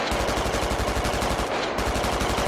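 Sustained machine gun fire from the video game Squad, a steady, loud, rapid rhythm of shots rattling without pause, close and alone.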